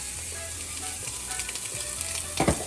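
Italian sausage sizzles and fries in a pan with ground beef and bell pepper, a steady close crackle with a louder burst of spatter near the end, no talking.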